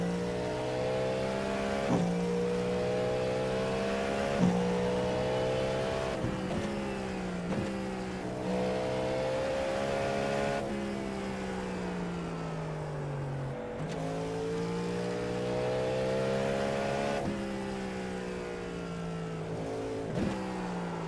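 A race car engine in the iRacing simulator runs through its start procedure, revving up and down in repeated rising and falling surges with a sharp blip between gear changes, loud and steady with no talk.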